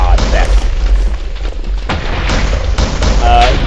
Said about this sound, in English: I send out those little fireworks things